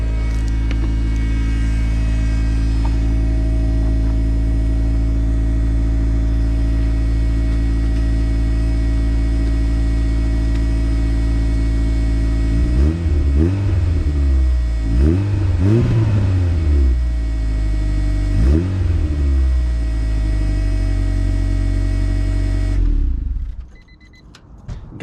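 An AWD turbo Honda CRX engine with a full exhaust idles loudly and steadily nearby, then gets several light, quick revs that swell and drop before it shuts off.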